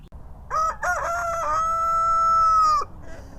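A rooster in a mixed flock of Silver Lace Wyandottes, Australorps and crosses gives one loud, close crow that stretches into a long held final note, with faint rustling before and after.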